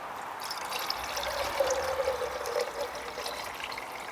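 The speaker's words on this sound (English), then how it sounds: "I'm about to put some water in the pot to get ready to start making some tea." Water pours into a pot on a burning stove for tea, a steady close trickle running for several seconds alone.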